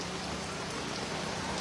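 Steady rain falls close by as an even, unbroken hiss with no talking over it, heard during flooding that has left people stranded.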